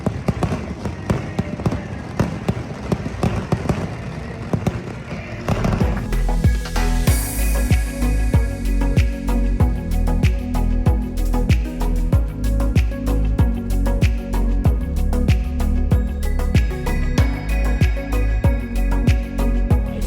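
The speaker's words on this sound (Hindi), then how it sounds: "बेस्ट फायरवर्क्स का शो आज तक का भी है ये, देखना रंग और पटाखे मिक्स कर दिए" A fireworks show in Vietnam fills the air with dense, rapid crackling bursts and booming pops, sparse at first and then a loud, near-continuous barrage of explosions.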